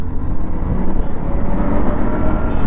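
A 2025 Honda Unicorn 160 motorcycle engine pulls steadily while accelerating, a dense, continuous rumble close by with no pause for the whole stretch.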